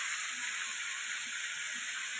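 A fish head fries in oil while food is cooked for a home celebration, a soft, even, steady sizzle heard faintly and alone.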